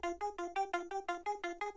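Without bit crushing, a Serum synth arpeggio layer plays a short burst of clean, evenly pulsing plucked notes, soft and solo, about eight notes in under two seconds.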